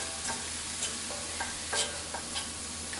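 Fresh thyme leaves stirred into shallots sizzling in a pan, steady close frying crackle with soft scraping stir strokes every half second or so, no voices.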